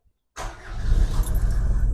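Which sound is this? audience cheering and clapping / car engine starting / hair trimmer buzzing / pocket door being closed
car engine starting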